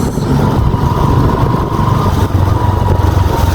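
Motorcycle engine droning steadily while riding along a road, loud and close with a constant buzzing rumble and road noise throughout.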